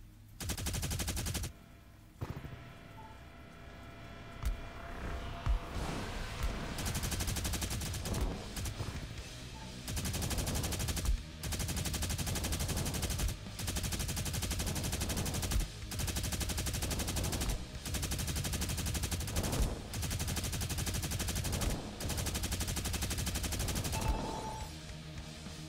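Rapid automatic gunfire from a shooter game on Xbox Series X rips in long sustained bursts broken by brief pauses, loud and dominant throughout, with little or no voice over it.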